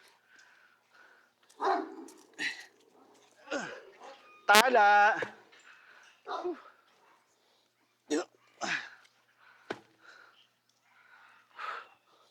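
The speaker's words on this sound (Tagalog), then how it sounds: "Nalalaro mo pa yung aso mo." A pet dog at play gives one short, loud bark in the middle of the clip. People talk intermittently around it, with breathy snorts and little gasps between the words.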